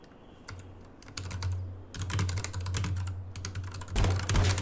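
Rapid clattering of typing on a computer keyboard during online gaming, steady bursts of close key clicks with short gaps over a low constant hum, no speech.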